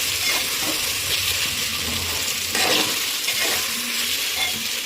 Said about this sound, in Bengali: এখানে আমাদের 10 মিনিট প্রায় পেঁয়াজটা কিন্তু ভাজা হয়েছে